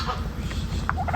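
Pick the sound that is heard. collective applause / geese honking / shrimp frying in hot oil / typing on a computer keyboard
geese honking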